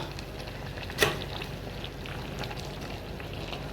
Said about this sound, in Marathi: मस्त छान अशी उकळे आले बघा भाजीला